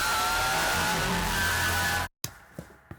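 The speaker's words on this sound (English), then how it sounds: "This is just a basic riser, but it has that really cool thing at the very end" A harsh riser effect, stretched and with drive at maximum, swells steadily and loud, then cuts abruptly to silence before a few scattered clicks and thumps trail off.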